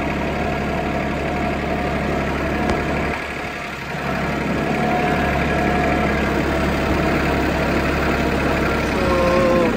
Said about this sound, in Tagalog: Padaanan ko lang ng traktora to.